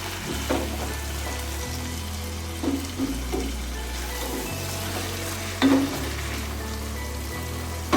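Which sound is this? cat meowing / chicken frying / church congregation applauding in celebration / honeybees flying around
chicken frying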